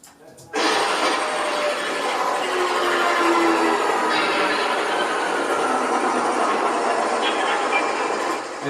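Sound effect of film breaking in a projector: a sudden onset gives way to a sustained, dense mechanical rattling and whirring clatter that holds steady and loud for several seconds.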